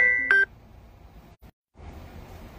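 A phone's incoming-call alert gives a short burst of electronic beeps at the very start, then cuts to a quiet room hush with no voices.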